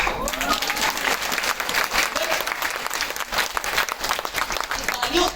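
Loud sustained applause from a large audience at a school annual function in a hall, dense, steady clapping with crowd murmur mixed in throughout.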